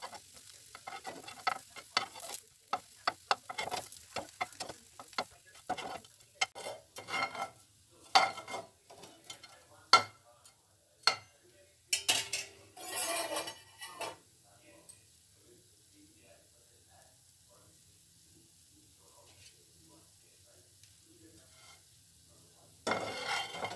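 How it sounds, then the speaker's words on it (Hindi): Bread slices fry in ghee with bursts of crackling sizzle and clattering pan or spatula knocks, intermittent and close, then dropping to near quiet before a final burst. "अब इन ब्रेड स्लाइसेस को हम दोनों तरफ से हल्का सा गोल्डन ब्राउन होने तक फ्राई"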